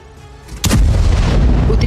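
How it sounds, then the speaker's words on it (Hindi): Israeli army artillery fire in northern Gaza: a single heavy boom lands partway through, followed by a loud, sustained low rumble that rolls on to the end, with no voices. "उत्तरी इलाके में इजरायली सेना की आर्टिलरी कहर मचा रही"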